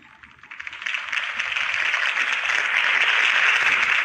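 A dense crowd applauding in a Batman video game, swelling from a soft start into sustained, even clapping that holds steady and loud to the end.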